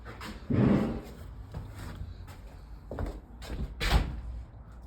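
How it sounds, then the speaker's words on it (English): A trap door opening in a derelict house: a single loud creaking thud near the start, followed by scattered knocks and scrapes of wood, close and alone without talk. "Trap door."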